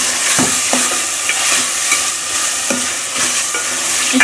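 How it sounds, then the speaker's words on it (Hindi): Mixed vegetables fry in masala as a spoon stirs them, giving a continuous close sizzle broken by repeated scraping clicks of the utensil against the pan. "इसको हम आप तीनों सब्जियों को अच्छी तरह से मसाले में भून लेंगे।"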